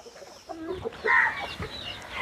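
A Kaki Nemali rooster on a farm gives a few short clucks and throaty calls, fairly close but moderate in volume, with quiet background between calls.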